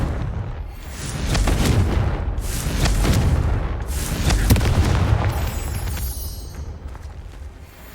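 Confringo fire spell explosions in the Hogwarts Legacy video game: a continuous run of deep, rumbling booms and bursts rolling one into another, loud and close, with crackling debris above.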